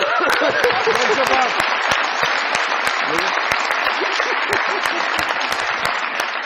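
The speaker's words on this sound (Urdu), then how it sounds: "بہت ساری تالیاں عباس صاحب کے لیے" Loud, close applause from a studio audience on a comedy talk show, sharp individual claps merging into a steady wash, with a brief voice murmuring at the start.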